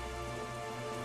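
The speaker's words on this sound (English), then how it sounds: "everything's all rainy and stormy and I can't see a dang thing ahead of me" Steady rain and storm noise from Zelda: The Wind Waker HD, a dense continuous hiss of rainfall drumming on surfaces with low rumble beneath, loud and unbroken throughout with no voices.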